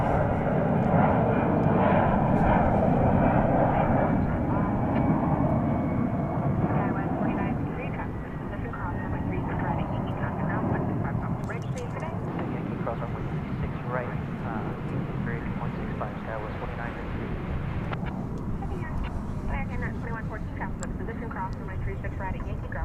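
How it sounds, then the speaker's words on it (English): A Qantas Boeing 787 Dreamliner landing at Dallas Fort Worth airport, its engine roar steady and loud at first and then easing, while someone talks and air traffic control chatter runs over it. "The Flying Roo about to touch down here on Runway DFW"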